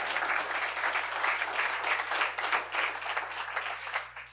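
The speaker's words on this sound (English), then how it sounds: "Y'all can clap for that." A crowd applauds steadily, a dense wash of clapping that holds for several seconds at even volume before tapering off.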